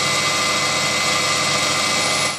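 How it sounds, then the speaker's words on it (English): A Proxxon PD 250/e lathe runs in reverse while cutting an internal thread, giving a steady close mechanical whir with a constant hum that fades out at the end. "I used this internal threading tool on the other side to cut away from the chuck with the lathe in reverse"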